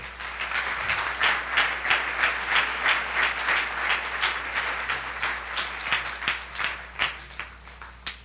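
A church congregation claps in a quick, rhythmic beat for the King during a Sunday service, the claps loud and close, fading into scattered final claps near the end.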